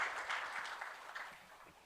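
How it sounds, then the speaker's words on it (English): Brief, faint audience applause at a college orientation event, a soft wash of clapping that tapers off within two seconds. "So big round of applause for you and your team."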